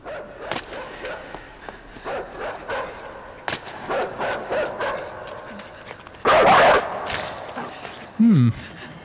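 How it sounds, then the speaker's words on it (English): A dog in the video game Inside gives sharp, menacing barks and yelps in two short loud bursts late on, with quieter game ambience and scattered thuds before them. "he is a very, very evil, evil dog"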